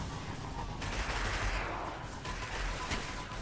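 Enemy gunfire rattles in the Destiny video game, a continuous fusillade of shots in a dense, noisy battle mix, moderately loud and without clear gaps.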